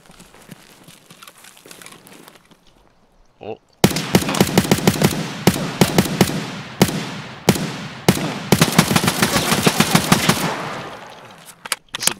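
Rapid automatic gunshots in Escape from Tarkov, with a sharp crack near four seconds followed by dense, loud, close bursts of fire lasting about eight seconds, then a final shot.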